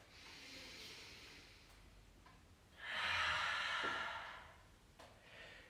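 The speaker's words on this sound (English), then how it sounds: "Exhale. And again. Don't rush those breaths." Slow, deliberate exhalations during a live yoga class, two soft breathy rushes separated by quiet, close to the microphone and faint overall.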